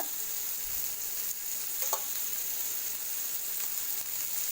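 Sankara fish frying in oil over a low flame makes a soft, even, continuous sizzle with a faint hiss, steady and unbroken apart from a small clink partway through.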